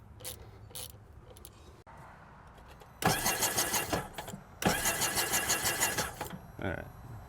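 A Sea-Doo GTX 300 jet ski engine, running on poor gas, cranks in two loud rhythmic bursts of about a second and a half each, churning without catching, with a person talking quietly before and between them.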